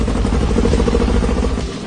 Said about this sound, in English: The engine was seized solid, but we managed to get it running.